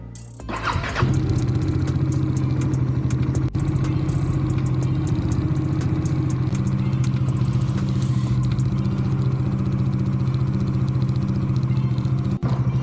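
A motorcycle engine starts up and settles into a loud, steady running drone on an early morning road, close to the rider and continuing without a break.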